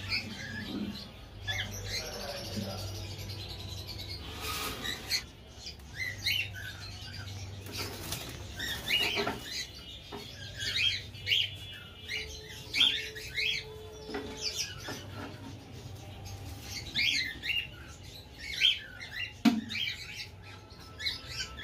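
Cockatiels in cages with bursts of wing flapping and short chirps and squawks, near and moderately quiet, with rustling and cage rattles between calls.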